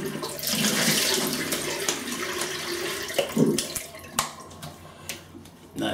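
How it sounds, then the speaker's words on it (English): Tap water runs steadily at a sink for a final face rinse after a shave with a Gold Gillette Aristocrat safety razor, a close, continuous splashing rush that thins out toward the end with a few drips and splashes. "Okay, I'm gonna have a little final rinse."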